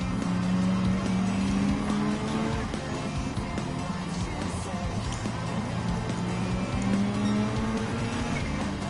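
A pack of Group 3 race cars at Suzuka Circuit in Gran Turismo 7, including an Audi R8 LMS Evolution 2019, with engines droning loud and continuous, revs climbing and falling as tires squeal through the corners.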